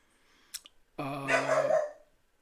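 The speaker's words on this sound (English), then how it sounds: "It's my dog. He's getting stirred up here." A single dog barks and growls close by, one sharp yip followed by a longer rough growling bark, loud and alone with no talk.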